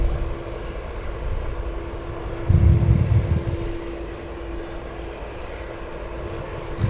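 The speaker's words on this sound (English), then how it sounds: "Coming out now is Qantas 645. It's a flight to Perth 737-300." A Qantas Boeing 737-300 departing Sydney Airport for Perth gives a steady, distant jet rumble that swells louder briefly midway before settling back to a continuous drone, with no talking.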